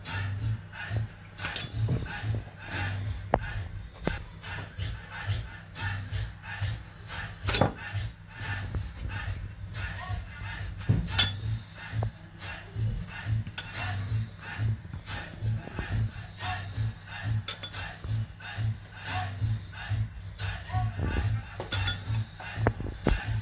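A fork dipped in flour presses down the edges of Jamaican beef patty dough, giving repeated soft taps and clinks against a work surface with a steady low hum underneath and no talking.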